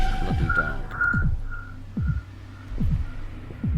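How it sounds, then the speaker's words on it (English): Slow, thudding heartbeat pulses in the horror video game Unsorted VHS, repeating in pairs under a faint wavering whistle-like tone, steady and fairly close. "Is that my heartbeat, or is that some more funky rhythms we've got going on?"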